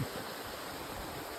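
Mossy Falls waterfall on the Camel's Hump trail in Vermont, a steady soft rushing of water with no break, fairly faint and unaccompanied by voices.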